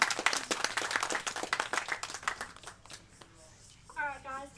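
Audience applauding a contestant at a seventies-themed charity pageant, with dense, steady clapping from a crowd that thins out toward the end as a voice begins speaking over it.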